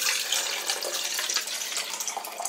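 Water running steadily from a tap, a continuous close hissing splash with no voices over it.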